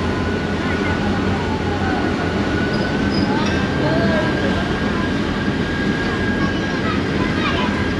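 A local KCR train rumbles at Orangi Town railway station in the Nazimabad area of Karachi, a loud steady roar of rolling wagons with a faint tonal whine above it.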